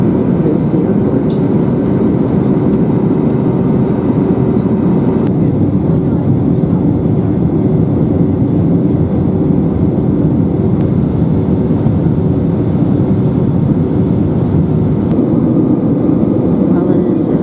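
Steady broadband roar inside a Lufthansa economy airliner cabin descending into Frankfurt on a flight from Helsinki, a constant low engine and airflow rumble that holds evenly throughout with no voices.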